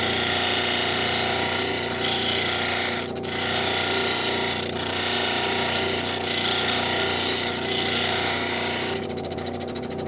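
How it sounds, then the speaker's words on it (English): A polishing machine works the girdle of a cut stone. A steady, loud motor whine carries periodic swelling grinding passes, and the tone shifts sharply near the end. "now we're into the first stage of polishing. On the girdle."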